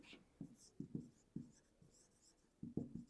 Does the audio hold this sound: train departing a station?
no